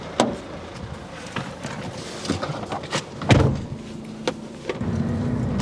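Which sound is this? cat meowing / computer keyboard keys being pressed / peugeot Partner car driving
peugeot Partner car driving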